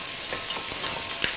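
Food sweating in a very small frying pan for stuffed cabbage rolls, a close, steady sizzle with soft stirring scrapes and a few crackles throughout.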